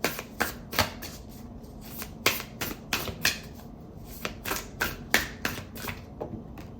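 Starseed Oracle deck cards being shuffled by hand, a close series of crisp riffling snaps and slaps in an irregular rhythm, with no voice.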